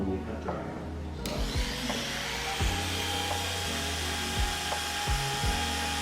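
An electric hair clipper cuts short, dry hair in a cosmetology school setting, giving a steady close-up buzz with a low hum, broken by intermittent scraping and rubbing as the clipper and comb work through the hair.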